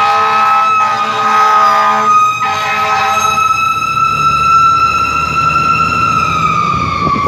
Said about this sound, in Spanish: allí van los bomberos a atender la necesidad de alguien